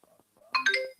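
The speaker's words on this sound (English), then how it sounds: "could you mute the phone?" A phone ringtone sounds briefly in a short melodic chime of bright tones, fairly close and rising out of a quiet room.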